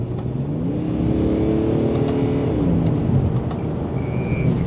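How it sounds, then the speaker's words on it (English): BMW E61 535d twin-turbo diesel wagon, about 20 years old, accelerating hard, a steady rising engine drone with turbo whir heard from inside the cabin, loud and continuous without talk. "Yeah, the car runs and drives. Let's pulls like a train."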